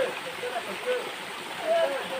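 Gently flowing river water in the Konkan countryside, a steady soft broadband wash with faint birdlike chirps over it, fairly quiet throughout.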